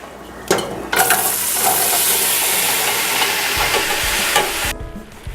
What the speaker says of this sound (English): we're going to melt down the butter, and then we're going to take the apples, onions, and carrots and throw those right in there